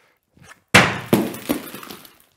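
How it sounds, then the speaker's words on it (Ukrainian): A brick thrown against a tempered glass sample in a safety test: one loud sharp impact with a crash, then a few smaller knocks and clinks as debris falls, close and alone. "Другий зразок ми також будемо руйнувати цеглою,"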